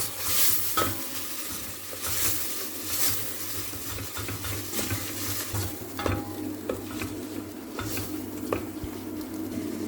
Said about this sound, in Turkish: bir dakika daha kavuruyoruz